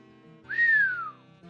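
A single rising-then-falling whistle of amazement, one clear drawn-out tone lasting under a second, with a faint background hum.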